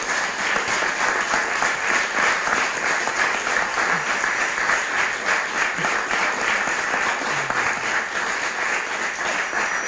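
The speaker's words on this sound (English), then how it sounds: "how about a round of applause for these guys?" Sustained audience applause fills a conference closing session on fossil fuel supply and climate policy, a steady dense wash of many hands clapping at even loudness for about ten seconds with no talk.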